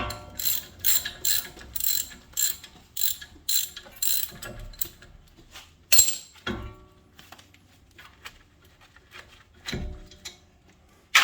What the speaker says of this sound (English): so you have to unscrew the bolt